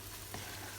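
Squid and tomato sambal stirred in a frying pan, a steady soft sizzle with a brief scrape of the spatula partway through.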